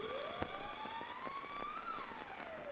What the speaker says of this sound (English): Far in the distance, they can hear the siren of the state penitentiary